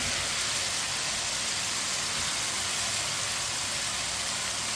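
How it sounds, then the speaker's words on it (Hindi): Chopped round gourd (tinda) frying in a pan over high heat gives a steady, even sizzling hiss that holds unchanged throughout, with no voices. "टिंडों को भी 2 मिनट के लिए फ्राई कर लेंगे। चूल्हे की आंच को थोड़ा तेज़ रखना है, तेज़ आंच पे थोड़ा फ्राई करना है।"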